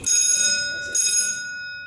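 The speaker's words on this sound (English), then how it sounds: "The bell rings." Vintage traction freight elevator bell in a university optical sciences building, two loud close rings, each a bright sustained metallic tone that lingers and slowly fades with no voices over it.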